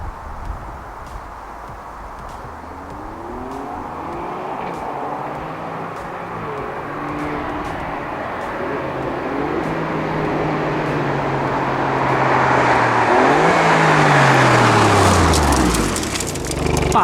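A powerful car, a fast rival to the C63 AMG and M3, accelerates hard, its engine note climbing through several gear changes over about seventeen seconds and growing louder toward the end.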